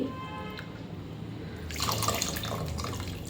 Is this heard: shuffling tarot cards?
no